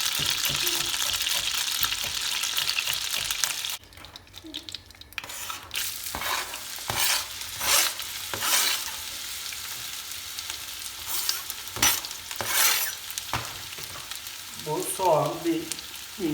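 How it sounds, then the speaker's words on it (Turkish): Butter melting into hot sunflower oil in a pan gives a continuous close sizzle broken by irregular stirring scrapes and clicks, with a brief quieter dip partway and louder spattering bursts near the end. "Biraz ayçiçek yağı kullanıyorum. Güzel de bir tereyağını sıvı yağ ekliyorum. O eriye dursun."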